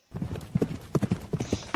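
Rapid hoofbeats clatter in a quick uneven rhythm, close and fairly loud, like horses running.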